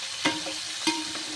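Eggs frying in plenty of hot oil in a home kitchen, a steady soft sizzle with two sharper bursts of crackle, close and alone without voices.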